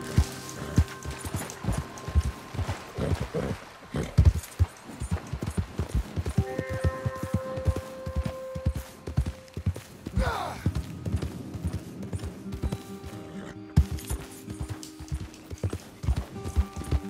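A horse in Red Dead Redemption 2 clops and gallops in a steady, fast hoof rhythm throughout, with brief game sound effects layered over the hoofbeats.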